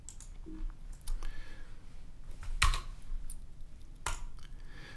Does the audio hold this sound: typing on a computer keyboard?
yes